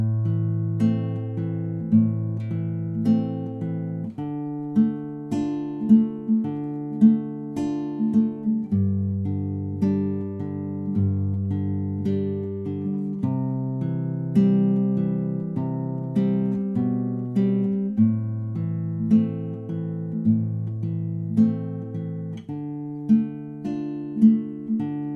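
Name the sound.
guitar playing chorus of a song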